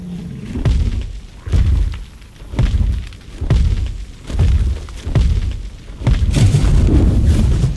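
A dragon in the video game ARK unleashes its fire breath attack in a series of heavy, booming bursts, roughly seven deep thuds spaced about a second apart, loud and close, with the last one rolling into a sustained roar.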